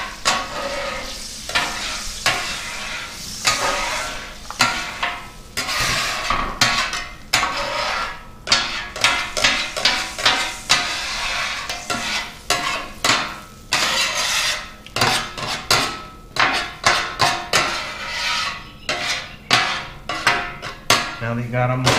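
A small metal scraper scrapes across a Blackstone flat-top griddle, pushing debris toward the drain in a steady run of loud, close, rhythmic rasping strokes, with occasional clanks of metal against the cooktop and no talk.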